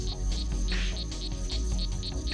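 A male strawberry frog calls in a Central or South American rainforest, a steady run of short, rapid, high chirps repeating at an even pace over a constant background hum.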